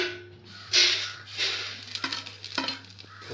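Vermicelli roasting in ghee is stirred around a pan, giving a few bright scraping sweeps and light clinks over a faint, low sizzle.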